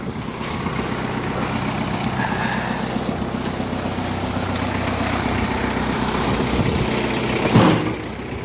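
A Kubota B3000 compact tractor engine idles nearby with a steady, even diesel rumble that holds throughout, with one brief knock near the end.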